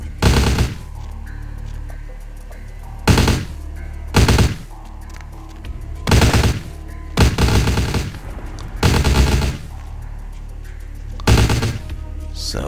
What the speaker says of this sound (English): So they're shooting at me.